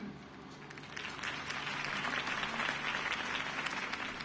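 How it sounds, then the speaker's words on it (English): Crowd applause in the Batman Telltale video game, a campaign rally audience clapping steadily, starting softer and swelling into a full, even wash. "could have heard that applause"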